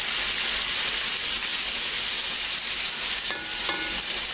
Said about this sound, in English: Now I'm going to glaze it with a little bit of red wine first.